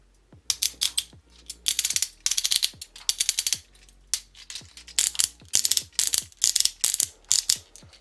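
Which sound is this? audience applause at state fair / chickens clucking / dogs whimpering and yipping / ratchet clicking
ratchet clicking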